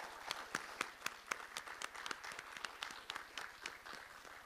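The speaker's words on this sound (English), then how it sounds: "if we could just give our panelists another round of applause" Faint, scattered applause from an audience for panelists at a discussion event, individual claps clearly separated in a steady patter over several seconds.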